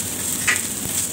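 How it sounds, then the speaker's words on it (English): Chicken frying in a pan for Sri Lankan-style vegetable fried rice gives a close, steady sizzle with light crackles and a few sharper pops, no voices. "I'm frying some chicken"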